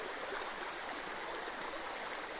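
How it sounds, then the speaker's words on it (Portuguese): A stream runs over rocks at a river border crossing, a steady, close rushing and splashing of water with no voices. "O córrego aqui, ó."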